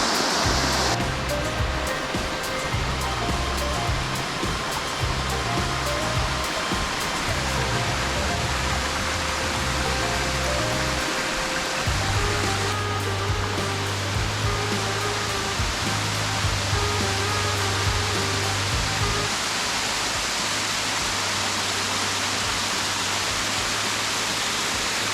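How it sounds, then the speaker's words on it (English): Steady roaring rush of falling water from Lye Brook Falls in Manchester, Vermont, constant and loud throughout, with a low rumble underneath and no voices. "I made it up here to the falls."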